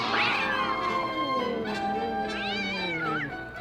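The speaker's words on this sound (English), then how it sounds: "They bit and scratched and clawed each other and made such a great noise" Several cats meowing and caterwauling in a loud, continuous squabble, rising yowls overlapping close by with no talk.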